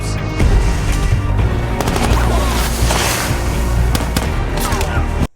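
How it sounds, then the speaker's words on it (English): Rapid bursts of gunfire crack repeatedly over a booming, dense action-scene mix from the film Inception, loud and close with scattered single shots. "These dudes miss all these gunshots."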